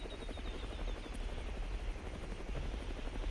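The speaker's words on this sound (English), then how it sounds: "I'm about to come in the white helicopter right now." A white helicopter in the Roblox game Mad City gives a steady, rapid rotor chop with a faint high whine, heard alone and evenly throughout.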